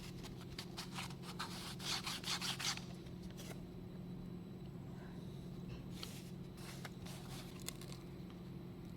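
A wooden arm slides back and forth on the sliders of a homemade cycloid art table, giving quiet, quick rubbing scrapes in a burst early on, then sparse faint scuffs over a low hum.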